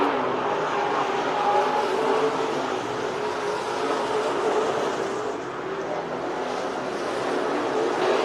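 Modified race cars circle the dirt oval at Eagle Raceway, a dense, steady engine roar carrying from a distance without pause.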